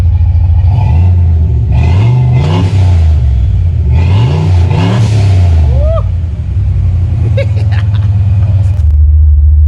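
A loud Ford 302 V8 engine idling with a deep burble, then revved hard twice, rising and falling in pitch, before settling back to a rumbling idle.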